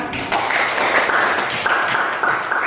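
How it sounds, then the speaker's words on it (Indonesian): Students applaud in a classroom during a school lesson, a steady wash of clapping that holds at even volume for a few seconds. "Kita beri tepuk tangan."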